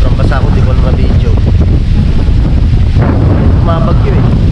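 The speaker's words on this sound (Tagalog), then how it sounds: "Sobrang lakas ng hangin, parang bagyo." Stormy wind at a campsite in Dingalan, Aurora, a loud, continuous roar buffeting the microphone close up, with faint voices now and then under the gusts.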